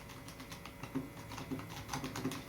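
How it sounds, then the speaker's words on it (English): Quiet keys on an APH Braille Plus 18 Braille entry keyboard tapped in a brisk, irregular run of soft clicks, close by and steady over a faint background hiss, with no talking. "These keys are very comfortable to type on."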